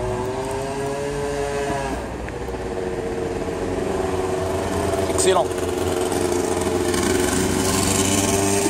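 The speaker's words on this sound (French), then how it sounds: "Moto de mort, il essaie de cabrer." A motorcycle engine revs hard as the rider tries to pull a wheelie, a loud droning whine that climbs in pitch, with someone talking over it.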